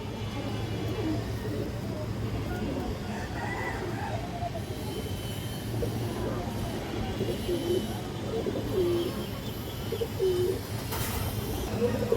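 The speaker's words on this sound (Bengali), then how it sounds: "খুবই ভালো একটা মাদি কবুতর, খাকি মাদি" A female khaki pigeon with kajla patti markings coos in soft, low repeated phrases, mostly in the second half, over a steady rumbling background that includes some train-like noise.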